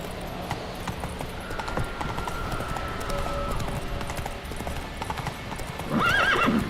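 A horse gallops in The Witcher video game, a steady, rhythmic clip-clop of hooves under ambient game sound, ending in a loud, close whinny.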